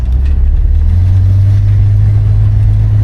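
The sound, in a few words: 1972 Buick Skylark engine while driving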